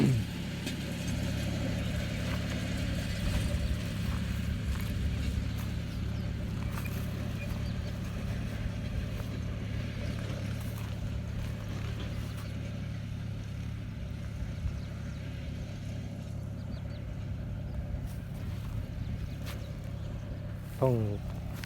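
A John Deere tractor engine labors steadily while plowing hard, dry soil marked by harvester tracks, a continuous droning rumble that runs unbroken throughout with someone talking over it.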